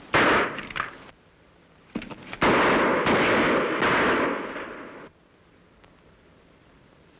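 A burst of sharp gunfire in a Western radio drama, a few loud close cracks followed by a long, heavy roaring blast that cuts off abruptly into quiet.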